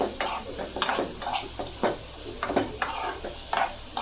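Spices with salt and Kashmiri chili powder fry under a constant sizzle while a spoon scrapes and knocks against the pan in repeated, fairly regular strokes.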